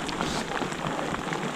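Rain pouring near the top of a mountain in Peru, a steady dense hiss of drops on surfaces with scattered nearer pattering, continuous and fairly close, with no voices.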